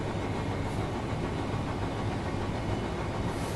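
A railhead treatment train running in the video game Train Sim World 3, a steady, continuous low engine and rolling drone with faint rail rhythm, uniform in loudness throughout.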